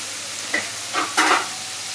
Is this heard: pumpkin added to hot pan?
yes